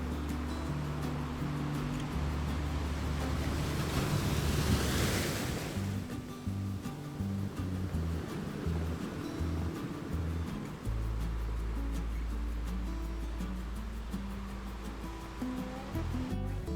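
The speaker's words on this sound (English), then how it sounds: "waves crashing against the rocky shore and the ocean stretching endlessly towards the horizon" Waves surge and crash against a rocky shore at Hermanus, a steady, broad roar of surf with a louder swell building in the middle, continuous throughout with no voices.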